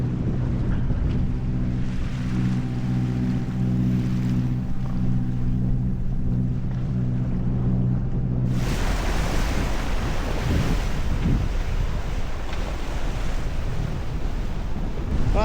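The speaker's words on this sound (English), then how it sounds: "As you can see, the motor is off and we are sailing." A sailing yacht underway at sea with the motor off: steady rushing of waves and water along the hull with wind buffeting, a low hum fading early on, continuous and loud with no talking.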